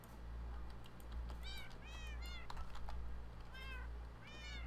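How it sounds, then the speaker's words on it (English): Several Minecraft cats meow in a row, a handful of high bending mews spread across the stretch over a low steady game hum, with clicking in between. "Dang, that's a lot of cats."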